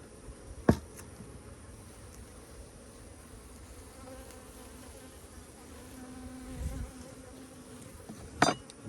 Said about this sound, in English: You see how these bees, they're a little bit more aggressive coming out